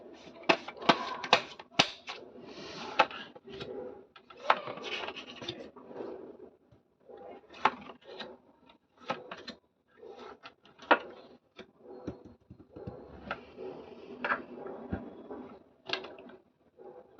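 Tarot cards are shuffled by hand in a final shuffle, a series of dry, papery riffling and slapping bursts that arrive in irregular clusters separated by short pauses, close and fairly quiet.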